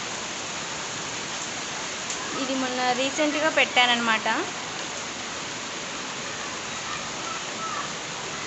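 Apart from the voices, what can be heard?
heavy rain falling on garden plants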